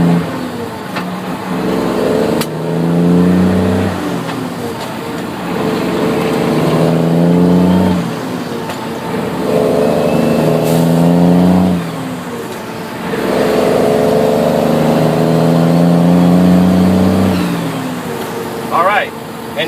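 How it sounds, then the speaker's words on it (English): A heavy truck engine drones and revs in repeated surges, its pitch climbing then easing back down as the engine brake brings the revs down, close by and steady. "Engine brake on, you hear the RPM starting to come down."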